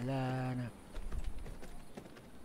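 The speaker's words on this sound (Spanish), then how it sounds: "Otro caballo." Horse hooves clip-clop in the video game V Rising, a quick run of muffled thuds following a short hummed voice at the start, moderately loud.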